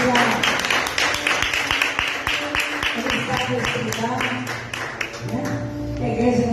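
A church congregation claps in a steady, dense round of applause, loud and continuous, with music or voices faintly underneath.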